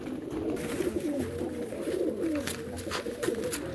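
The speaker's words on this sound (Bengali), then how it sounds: "দেখুন সব মাদি পায়রা এগুলো" Female pigeons in a loft coo steadily, a low rolling murmur that continues throughout at close range, with soft overlapping calls and no talking.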